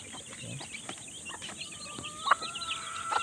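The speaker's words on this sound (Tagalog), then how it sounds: "Lahat naman po sila nakakatuka mga kaibigan" Young chicks peck at feed from a trough, with soft scattered taps, clucks and a few sharp high chirps near the end, while someone talks quietly in the background.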